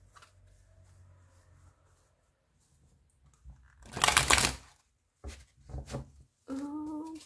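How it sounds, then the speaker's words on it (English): A tarot deck being shuffled by hand, a quiet stretch followed by a loud riffling burst and a couple of shorter card flutters, with a faint tone at the end. "I hope that shuffling noise is not that loud"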